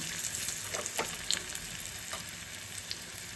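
Dried red chillies and asafoetida sizzle in hot oil for a tempering, a steady close crackle with scattered sharp pops and faint stirring, no talking.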